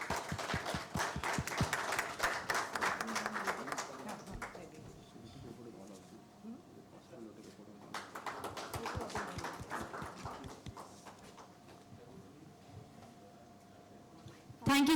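An audience applauds at a ceremony honouring a union minister, a burst of clapping that fades and swells again, with a dog barking and whimpering nearby and some voices underneath.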